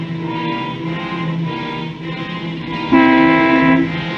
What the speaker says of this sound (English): What are you honking the horn for?